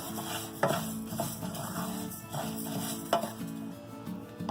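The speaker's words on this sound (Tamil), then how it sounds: "கிட்டத்தட்ட இதை எள்ளு மாதிரி தாங்க பொரியும்" Flax seeds dry-roasting in a pan for idli powder give a steady soft crackle and sizzle, with stirring scrapes and a few sharper clinks of the spoon against the pan, no talk.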